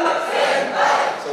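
Audience at an anime quiz event cheering and chanting together, a dense, sustained roar of voices filling the room without a break.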